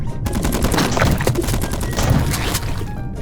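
Shotgun fire in a video game, loud dense bursts of blasts and impacts packed close together, continuous and aggressive through the whole stretch.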